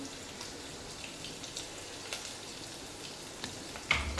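Onions sautéing lightly in a pan, a quiet steady sizzle with small scattered pops and crackles, no talking.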